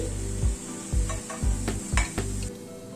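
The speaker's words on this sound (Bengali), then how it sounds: "পেঁয়াজটাকে লাল করে ভেজে নিলাম এবার পেঁয়াজটা তুলে নিচ্ছি" Onions fried red in oil are scooped out and pressed against the side of the pan to drain, five rhythmic scraping strokes over a constant close sizzle, with no talk.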